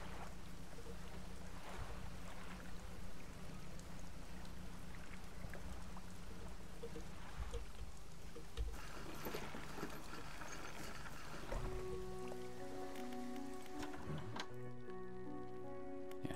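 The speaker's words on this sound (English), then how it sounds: "Does it feel like we're moving a little bit faster now with the extra engine?" Fishing boat engine hum with lapping water in the fishing game Dredge, a steady low drone running throughout with a clearer tonal engine note rising near the end, no talking.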